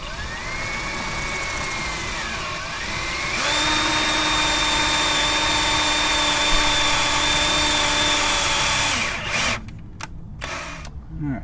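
A power drill with a sharp bit bores into a bad metal AC bearing piece, its whine steady at first, then rising in pitch and intensity before stopping into scattered clanks and handling noise near the end.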